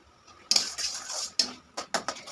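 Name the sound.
stirring kharkol paste in a pan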